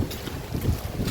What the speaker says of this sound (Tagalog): Lakas pa ng hangin.